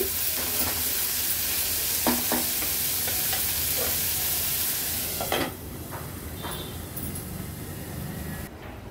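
Onion cooks on a very low gas flame in a covered pan with a continuous soft sizzle and hiss, broken by occasional clinks and a faint stir. The sound grows quieter after the lid moves.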